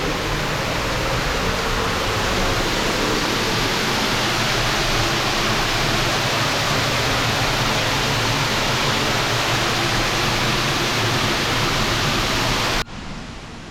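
A waterfall at Newstead Abbey pours with a dense, loud, continuous roar that stays steady and even throughout, cutting off abruptly just before the end.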